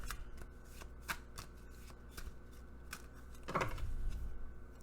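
Glossy oracle cards are shuffled close up in a run of crisp riffling bursts and slides, ending in a louder rustling flurry as the deck is squared.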